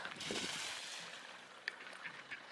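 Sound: ducks and swans

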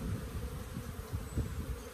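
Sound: honey bees buzzing in hive

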